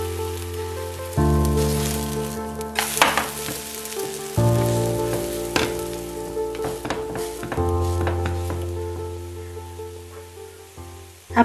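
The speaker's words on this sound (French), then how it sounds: "on met juste un petit peu d'huile et vous versez juste une petite quantité au fur et à mesure et faire frire ce mélange là" A vegan omelette mixture poured in small amounts into a pan of hot oil sizzles loudly, with crackling bursts each time more batter hits the oil, close up and with no talking.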